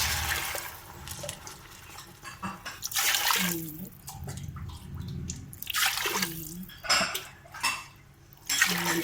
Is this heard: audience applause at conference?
no